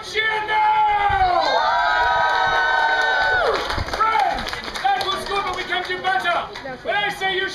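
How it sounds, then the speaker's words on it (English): A theatre audience at a Shakespeare musical cheers and shouts loudly, with whoops, children's voices and some clapping in a lively, sustained burst that rises and falls over several seconds. "I am Will Shakespeare, which means you should cheer now!"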